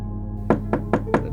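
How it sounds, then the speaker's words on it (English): After a quiet moment, five sharp knocks strike a bedroom window during a blizzard, each one a short, hard rap a beat apart. They sound close and distinct against a low steady background hum. "the knock at the bedroom window"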